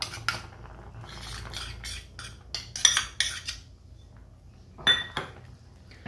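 A spoon stirs shengole in a cooking pot, scraping and clinking against the metal in short irregular bursts, near and moderately loud, with quiet gaps between.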